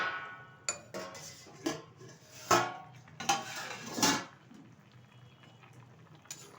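A lid clinks and metal pot sounds knock several times as a pot of fish curry with cauliflower, potato and lentil dumplings is opened, quiet sharp clanks over a faint simmering background.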